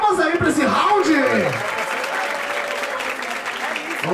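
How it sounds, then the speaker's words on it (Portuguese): A crowd at a rap battle claps and applauds steadily for several seconds, loud and close, with some voices mixed in. "palmas aí pra esse round!"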